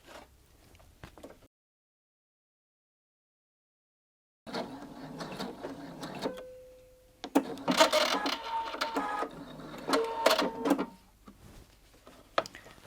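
A sewing machine stitches fabric for a bound buttonhole in short bursts of rapid mechanical whirring and clatter, split by a silent pause and a brief tone, fairly quiet and close.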